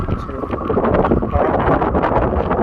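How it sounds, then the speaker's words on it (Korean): Strong wind blows on a mountain trail while hikers descend Cheongnyangsan in Bonghwa, Gyeongbuk. Loud, continuous gusts buffet the microphone for the whole clip. "바람이 엄청 불고 있습니다. 바람 소리가 상당히 좀 심하고"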